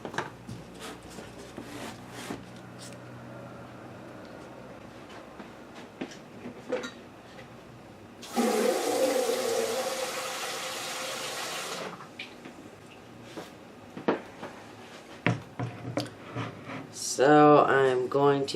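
Water runs from a tap for about four seconds in the middle, surrounded by quiet handling clatter and some speech near the end.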